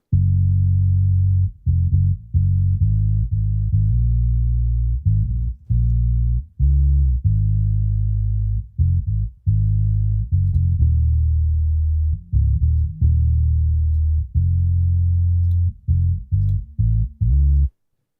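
A bass layer cut down to its lows by a high-cut filter near 130 Hz plays a loud, dark, muffled line of short and held notes, with no speech over it.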